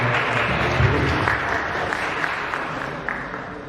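A hall full of school principals at a workshop applauds steadily, a moderately distant wash of clapping that holds even throughout, with a low voice murmuring briefly underneath.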